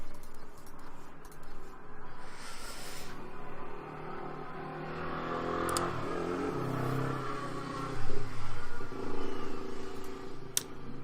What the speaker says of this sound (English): Apologies for that motorbike.